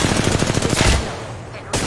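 Rapid automatic gunfire in a shooter video game, a burst of quick close shots over about a second that ends abruptly, followed by a brief quieter gap and a sharp final sound.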